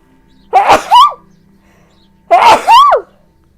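Two loud sneezes about two seconds apart, each a sharp burst with a quick double-peaked shape, close to the listener in a quiet room.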